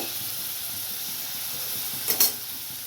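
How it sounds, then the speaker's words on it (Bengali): Ingredients for a lote fish curry fry together in a pan, a steady close hiss of sizzling oil broken by a brief utensil clatter near the end. "এগুলো আমি একসাথে সব ভেজে নেব। ভালো করে আমি ভেজে নেব।"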